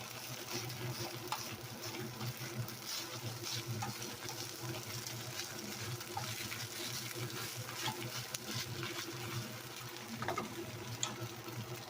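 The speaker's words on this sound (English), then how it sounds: "I'm letting the vegetables kind of caramelize in the two different sauces." Mixed vegetables caramelizing in two teriyaki sauces for a chicken teriyaki bowl sizzle steadily in a hot pan, a continuous close frying hiss with faint stirring scrapes and no talking.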